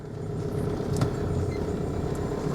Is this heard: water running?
no